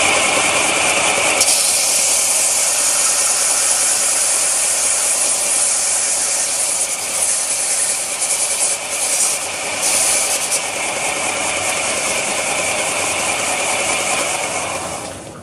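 A loud, steady whirring and grinding as a power drill spins a 3/16 rivet chucked in it close by, a harsh continuous hiss lasting throughout.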